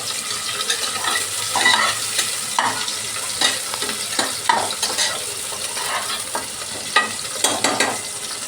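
Onion stirred in hot oil in a pan for a dry chicken-feet dish, a constant loud sizzle broken by repeated scraping strokes of the spoon.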